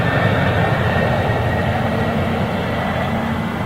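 A Swiss Airbus A220 airliner passes at an airport, giving a steady, loud, broadband engine roar with a faint whine on top. The roar holds constant throughout, with no voices.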